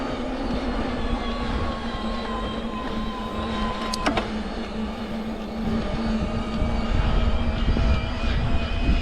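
A Canyon Strive ON CFR e-bike motor gives off a sustained whine while riding a punchy trail section, a steady tonal hum under wind and rolling noise with a brief sharp click midway.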